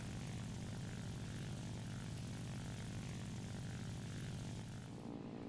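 The propeller engine of a La-5FN fighter drones steadily and unbroken in War Thunder air combat, a dense buzzing roar heard from the cockpit for the whole stretch, with no talking.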